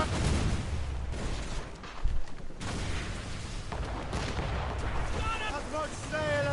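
Ship cannons boom in an Assassin's Creed naval battle, several heavy deep blasts with rumbling tails across a noisy sea fight, voices shouting between them.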